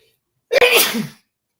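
A single sharp sneeze bursts out close by, loud and brief, with quiet before and after.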